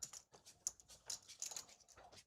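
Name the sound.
poker chips rustling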